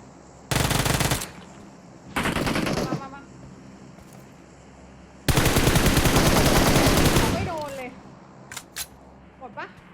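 Bursts of automatic gunfire from the mobile battle-royale game PUBG Mobile, three loud sustained volleys with pauses between, followed by a few sharp single shots, while a player talks excitedly over the action.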